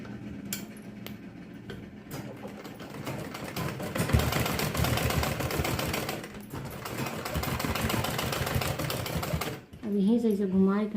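A sewing machine stitches a dhoti salwar, running in a steady rhythmic whir for most of the stretch, close and fairly loud, with a voice talking over it and a brief pause near the end before speech alone.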